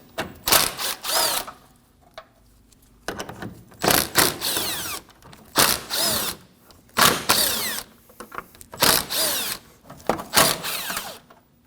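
A power tool spins out 10mm bolts along the grille of a 2016-2022 Honda Pilot 3.5L in a series of short, loud bursts separated by pauses.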